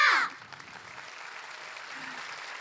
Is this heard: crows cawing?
no